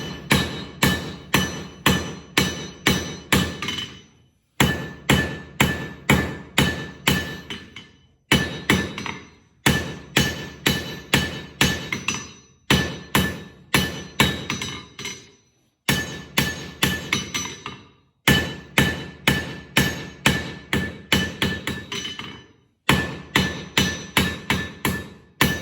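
A hammer rings sharply on hot iron at the anvil while forging a flint striker, steady bursts of rapid, evenly spaced metallic blows separated by brief pauses, loud and close with no talk.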